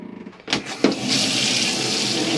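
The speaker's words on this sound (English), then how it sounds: "This is showing your water pumps working" A caravan water pump on a Swift Freestyle SE 664 starts up with a couple of clunks, then tap water gushes into a washroom basin in a steady, loud, close flow.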